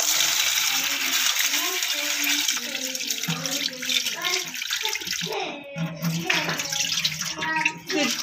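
Urad (mash) lentils being washed by hand in a bowl of water, with continuous close sloshing and splashing, the grains swirling and clinking, while a voice murmurs faintly in the background.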